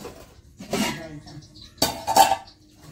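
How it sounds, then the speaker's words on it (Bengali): A cooking pot for khichuri set on a home stove, giving a couple of metallic clanks and scrapes separated by quieter moments, close and fairly loud. "তো চলো এবার হাঁড়িটা চাপিয়ে দিই, কারণ খিচুড়িটা হাঁড়িতেই করবো।"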